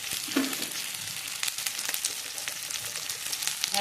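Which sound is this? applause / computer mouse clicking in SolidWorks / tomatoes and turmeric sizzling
tomatoes and turmeric sizzling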